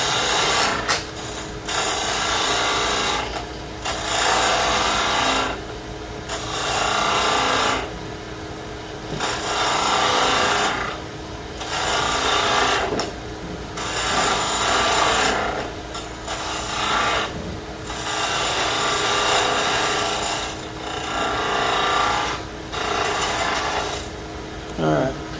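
A 3/8 spindle gouge cuts a small ring on a wood lathe in repeated rasping bursts of a few seconds each, separated by brief pauses, with the lathe hum underneath.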